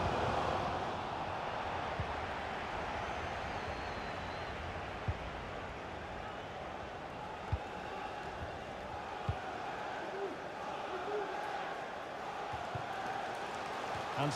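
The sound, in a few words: stadium crowd noise in the video game FIFA 23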